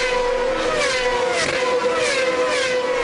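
Formula 1 race car engine heard onboard during a race, a loud, sustained high-pitched whine with rising and falling revs as the driver pushes through corners.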